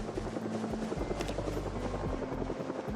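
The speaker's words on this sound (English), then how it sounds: "am I hearing the helicopter make a third visit?" A helicopter flies overhead in the video game Project Zomboid, its rotor giving a low, rhythmic thudding that pulses steadily and sits fairly faint in the background, with no talking.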